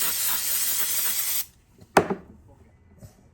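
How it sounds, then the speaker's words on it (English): Aerosol cleaner hisses loudly in a steady burst for about a second and a half onto a grimy throttle body assembly, then stops, followed by a couple of faint knocks nearby. "Spray the hell out of it if you can."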